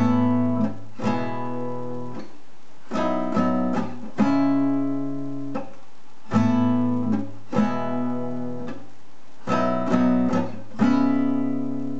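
Strummed acoustic guitar chords for a song, played as repeated bright strums on five strings with short pauses between chord changes, clear and close with no talking.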